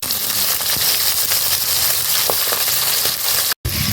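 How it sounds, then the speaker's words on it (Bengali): Sea fish sizzling and crackling as it fries in a pan, a steady dense hiss with scattered pops throughout, close and fairly loud, broken by a brief dropout near the end. "বাকি মাছগুলোকে এভাবে ভেজে নেব।"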